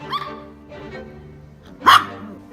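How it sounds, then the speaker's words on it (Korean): A small Maltese dog gives a sharp, loud bark near the end, following quieter muffled sounds and soft whimpering noises indoors. "개 짖는 소리 안 나게 해라."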